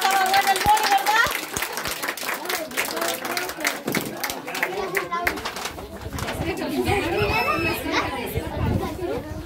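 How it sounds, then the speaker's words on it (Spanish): Applause and cheering at a birthday party, with clapping mixed into lively chatter, children's voices and shouting throughout. "¡Un aplauso!"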